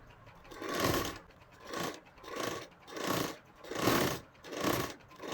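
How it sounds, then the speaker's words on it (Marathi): Sewing machine stitching fabric for tailoring, running in six even bursts about one second apart, each swelling and fading, close and fairly quiet with no talk. "हे आपल्याला एवढे शिलाई करून घ्यायची"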